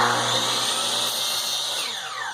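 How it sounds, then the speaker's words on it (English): A DeWalt DW715 miter saw cuts a small piece of trim, its motor whining loud and close before the pitch sags and winds down as the blade passes through the wood. "you're going to take a really small piece of trim, and then you're going to cut it with the saw"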